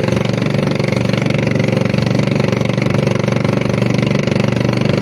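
A steady motorboat engine drones loudly and evenly throughout as a fishing boat heads out to sea in the Philippines, a continuous low mechanical rumble with no pauses.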